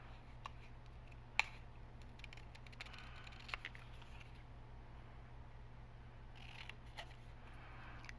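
Scissors cut paper around an inside corner with soft, close snips and light rustles over a steady low hum, quiet and with no talk.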